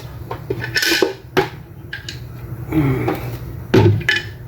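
A metal lid set onto a cooking pot of garlic butter shrimp, giving a few clanking knocks and scrapes of metal on metal at close range, with kitchen background noise between the impacts.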